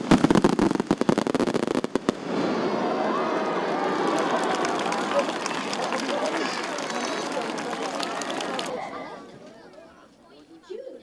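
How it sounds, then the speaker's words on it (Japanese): Rapid bursts of fireworks launched across the Asahi River at a riverside festival crackle and boom, then a dense, continuous roar of explosions mixed with crowd noise, fading near the end. "旭川の対岸から打ち上げられる花火は、まるで見ている人たちの真上で大輪の花を咲かせたかのような迫力で"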